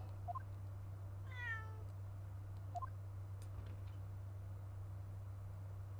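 Wagahai, a cat in The Great Ace Attorney game, gives one clear rising-and-falling meow over a steady low hum, then a few faint chirps and clicks follow.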